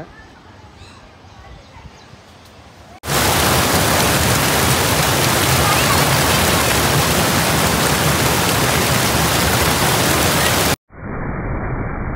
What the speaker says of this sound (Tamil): அருவி பாருங்க எவ்வளோ அழகாக வந்துட்டு இருக்குன்ட்டு இங்கே பாருங்கள் ஃபால்ஸுமே சத்தத்தை பாருங்க எவ்வளோ சூப்பராக இருக்குன்ட்டு